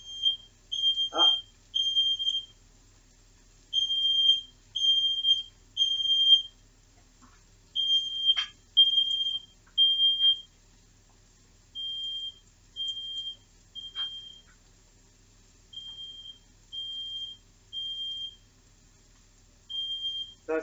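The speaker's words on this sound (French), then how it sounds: "c'est bien les détecteurs de fumée, mais des fois, c'est un peu embêtant" A smoke detector sounds in a kitchen set off by cooking smoke from garlic and chicken frying in a pan, piercing high beeps in repeated groups of three with short gaps, loud and alone.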